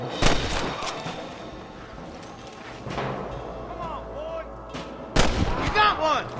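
Gunfire in the video game Red Dead Redemption: a couple of sharp, loud shots ring out at the start and again near the end, with quieter pops and game ambience between them.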